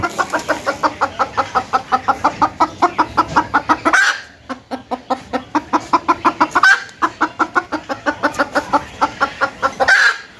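A newly bought farm chicken, held under a cover, clucks in rapid, rhythmic bursts, close and loud, with short pauses between runs of clucks and a few louder squawks.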